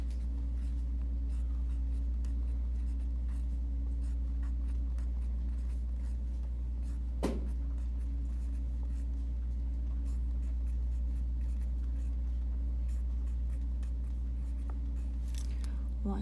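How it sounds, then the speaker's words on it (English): Writing out a multiplication on a board during a math lesson: faint, scratchy strokes over a steady low electrical hum, with one sharper tap midway. "So I'm going to write that out."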